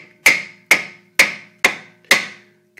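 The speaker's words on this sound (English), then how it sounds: "easy trick to just tap the caliper with the hammer" A hammer taps the brake caliper on a Toyota D4D during a brake pad change, giving five sharp, evenly spaced metallic knocks with short ringing decays, close and loud with no talking.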